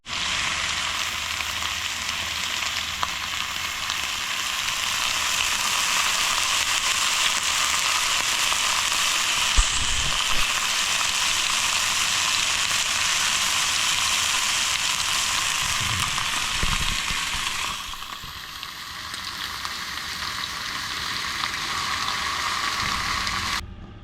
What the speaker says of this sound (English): Sauteed mushrooms, whole bunch of them